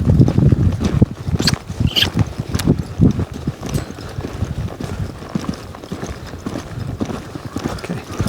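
A young colt being started under saddle lopes along, its hoofbeats a steady rhythmic clip-clop close by, with some wind noise across the microphone.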